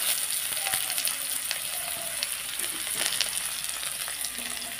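Potato and brinjal pieces frying in hot oil in a home kitchen pan: a dense, continuous bright sizzle and crackle that stays loud and close throughout.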